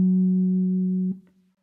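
A guitar note through a Fractal whammy pedal effect pitched one octave down rings as a steady, loud low tone for about a second, then cuts off abruptly with a brief scrape.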